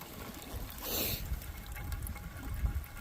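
Water trickles through a Sawyer filter at a forest hammock campsite, a soft, continuous dribbling with a brief gush near the start, close and faint, with no talk.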